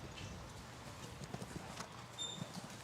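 A horse's hooves beat in a quick rhythm across a show jumping arena during an FEI five-star team competition, faint and distant under low crowd and arena ambience.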